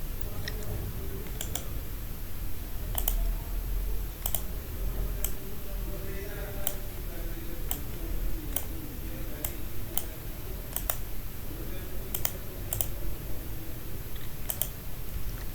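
Sharp mouse clicks and keyboard taps recur through an Excel dashboard-building session on a computer, evenly spaced and close, with some quiet talk alongside.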